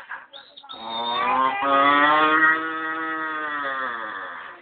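A human voice imitating a cow, giving one long, drawn-out moo that holds steady for several seconds, close and clear.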